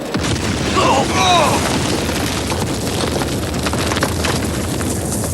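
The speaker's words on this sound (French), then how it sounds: "Explosion dans la salle des machines." Explosion effect in a ship's engine room for a French audio drama: a heavy boom at the start gives way to a loud, sustained rumbling roar with crackling debris, and faint voice-like tones briefly rise over it.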